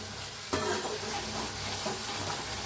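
Masala for gavran chicken roasts and is stirred in a pan, giving a continuous close sizzle broken by a sharp scrape as the spoon moves through it, with no talk.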